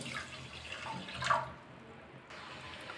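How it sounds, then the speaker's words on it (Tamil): A short splash of water pours into a pan with sugar around the middle, then settles into quieter background noise. "1 கப்பு தண்ணி சேர்க்குறேன்."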